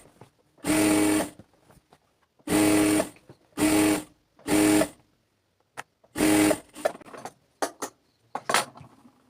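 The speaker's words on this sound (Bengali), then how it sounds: "এবারে সেলাই দেওয়া দিব তাহলে সুতা উঠবে না" A sewing machine stitches a rubber waistband into pajama trousers in several loud bursts of about half a second to a second, with short pauses and small clicks and handling noises between them.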